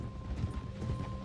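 Horse hooves clip-clop softly and steadily in Red Dead Redemption 2 under a low ambient hum.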